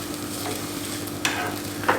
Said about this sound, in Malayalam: നല്ല റോസ്റ്റായിട്ട് നല്ലൊരു മണം വരുന്നവരെ നമുക്കിതൊന്ന് റോസ്റ്റ് ചെയ്യാം